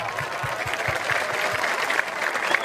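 Crowd at an Islamic religious sermon in West Java breaking into sustained applause, a steady dense clatter of many hands with rhythmic low thumps running through the whole stretch.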